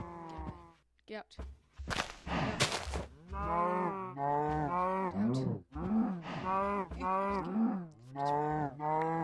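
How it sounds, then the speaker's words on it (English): Repeated cow moos from the Minecraft video game, a series of drawn-out lowing calls one after another, with a brief noisy burst early on. "Don't you moo at me."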